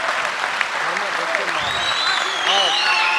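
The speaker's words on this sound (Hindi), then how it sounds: "बहुत बहुत आभार आपका इन तालियों के लिए," An audience at a poetry recital (kavi sammelan) claps in sustained applause while someone speaks over it through the sound system.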